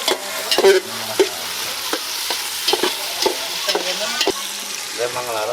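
Onions fry and sizzle in a pan for a Kurnool-style fish curry, with a spoon scraping and stirring in irregular knocks over a steady hiss.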